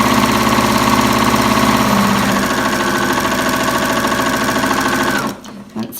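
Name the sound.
sewing machine stitching half hexie quilt cotton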